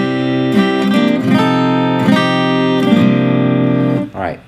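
Acoustic guitar plays a song in a cover version, with loud, close strummed chords that ring out and change every second or so before fading at the end.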